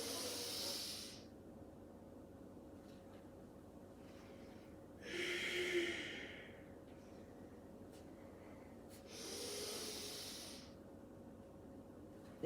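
Deep breaths drawn in during a slow stretching exercise: three long, airy inhalations, each lasting a second or so, heard close up and separated by quiet pauses.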